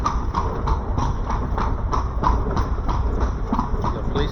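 Carriage horse hooves clip-clop along the cobblestone streets of Old Sevilla, Spain, in a steady, even rhythm of sharp taps over a low background rumble, fairly close and with no talk.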